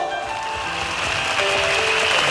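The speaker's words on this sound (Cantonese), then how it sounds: "俾啲掌聲好唔好？" A live crowd applauds a singer at a Cantonese pop concert, the clapping a steady, dense wash held for a couple of seconds, with faint sustained tones from the stage beneath it.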